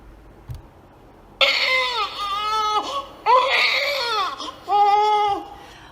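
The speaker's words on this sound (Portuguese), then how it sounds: "é uma criança chorando" A baby cries in three long, loud wailing bursts separated by brief catching breaths, close and alone with no talking.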